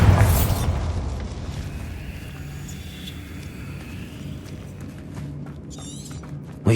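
A deep booming blast opens at once from the Bombarda spell in a Harry Potter video game, then rumbles and fades into a low ambient wash, with a faint crackle near the end.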